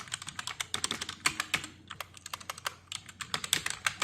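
Rapid typing of a command on a computer keyboard, with quick irregular key clicks close by and short pauses between bursts.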